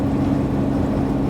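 The engine of a 1988 Pontiac Fiero GT pulls with a steady, low droning roar under acceleration, heard from inside the car, continuous and moderately loud without talk.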